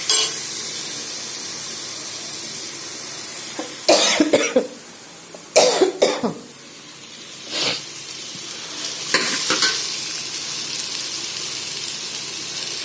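Small onions sizzle in hot oil with spices, a steady hiss broken by loud bursts of stirring and clattering in the pan.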